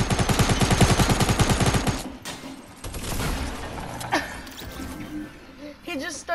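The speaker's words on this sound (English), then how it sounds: "He just starts shooting, like," Rapid automatic gunfire from a video game, a dense burst of repeated shots for about two seconds, followed by scattered effects and game noises with players talking over it.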